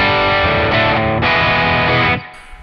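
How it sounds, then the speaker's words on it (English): A heavily overdriven electric guitar, played through a NUX Cerberus pedal and Amoon American Sound, sustains thick, buzzing chords loudly, shifting pitch a few times before cutting off into brief quiet. "I'll show you that the overdrive works great."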